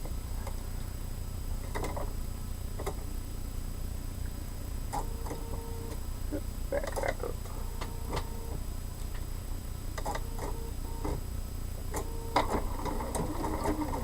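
A sewing machine stitches quilt pieces for a quarter-inch seam, in a quiet run of light mechanical ticks and short clattering bursts at an uneven pace, with no voices.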